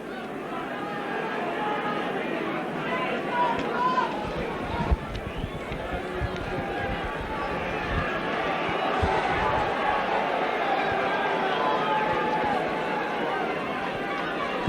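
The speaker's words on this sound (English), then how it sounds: "You can hear them shouting, Rovers, Rovers." A Featherstone Rovers rugby league crowd at a 1990–91 championship match against Leeds shouts and chants in a broad, continuous roar from the stands, with a commentator talking over it.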